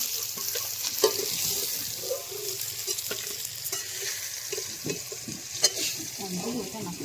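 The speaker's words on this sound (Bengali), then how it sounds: "লাল লাল করে ভেজে নিয়ে বাকি মাছটাও ভেজে নেবো" Fish fries in a pan with a steady sizzle and occasional clatter as pieces are turned or stirred, with no voices heard.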